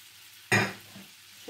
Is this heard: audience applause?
no